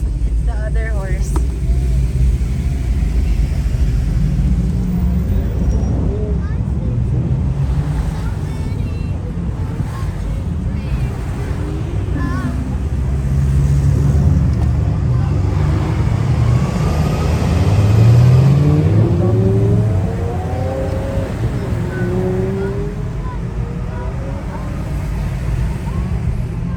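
Cars including a Ferrari and a Mustang cruise by along a street at the Dream Cruise, engine rumble rising and fading as they pass, under steady conversation from nearby people.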